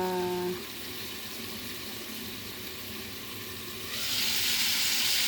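Shrimp sautéing in a pan for ginisang hipon, a steady close sizzle that swells louder toward the end, with a brief tonal hum at the start and no talking.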